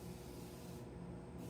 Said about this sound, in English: a little bit of spray